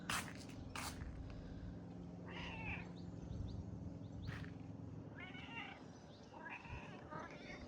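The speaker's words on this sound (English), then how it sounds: "Cat's come back." A cat meows several times in a garden on a patio during spring cleaning, short distinct calls spread over a steady low background hum, fairly close.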